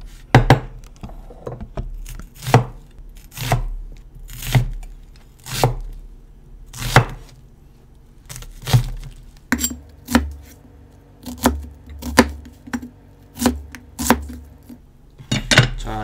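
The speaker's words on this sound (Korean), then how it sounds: "일단 여러분, 양파 하나를 썰어 주겠습니다" Knife chopping an onion on a cutting board: a steady series of sharp, close, distinct chops, a little over a dozen at roughly one-second intervals, with a faint low hum underneath.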